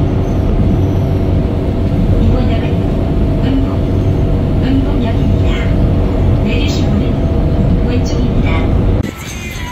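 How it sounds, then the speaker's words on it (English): An overground rail train in Korea rumbles loudly and steadily from close by, a dense, continuous roar that drops off abruptly near the end. "I'm going to be taking the overground rail"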